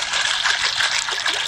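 Water poured over dried peas to rinse them before cooking, a steady continuous trickling splash with no talk.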